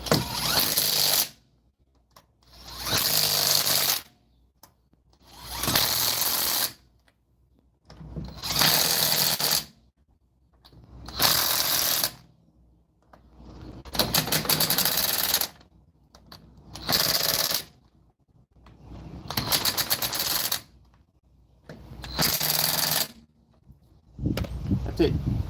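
An impact wrench tightens the wheel lug nuts on a Kia Soul after a brake pad and rotor change, in about nine loud, close bursts of rattling hammering, each a couple of seconds long and separated by short pauses.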